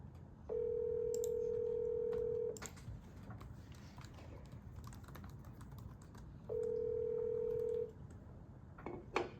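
A telephone line rings out for a phone interview call, with two long, even tones separated by a pause and light keyboard typing in between.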